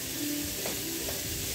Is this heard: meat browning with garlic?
yes